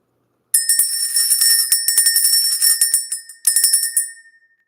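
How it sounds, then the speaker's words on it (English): A small bell rung near and loud to clear energy, its bright ringing tone sustained for several seconds with repeated strikes, a brief break, then a final ring that fades out. "Let's ring the bell."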